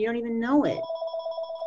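A telephone rings with a steady electronic tone that starts just after someone finishes speaking and carries on alone, close by.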